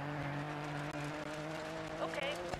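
Ford Fiesta R2 rally car in Dirt 4 revving and accelerating from a standing start, a steady droning engine note with rising pitch held throughout, close and loud, with a brief higher whine near the end.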